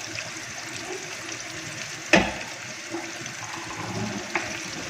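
Chicken tikka pieces deep frying in hot oil, a steady close bubbling hiss with one sharp splattering pop partway through and a smaller pop near the end, no voices.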